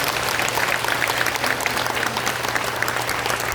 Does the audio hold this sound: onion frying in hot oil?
no